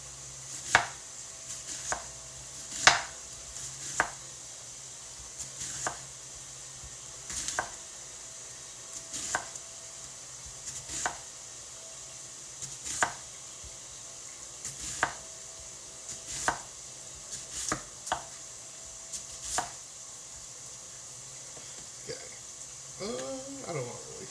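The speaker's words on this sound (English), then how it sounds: "What we're gonna do to try and make it match the size of the peppers is we're gonna do slices" A knife slices peppers on a cutting board for a sausage skillet, with sharp irregular chops spaced across the clip, fairly close and alone, with no talk.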